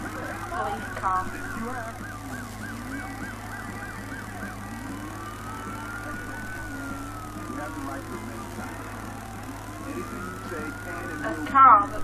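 Police car siren in the Driver San Francisco driving game, a wailing tone rising and falling in slow sweeps over a steady engine hum, with a short honk near the end.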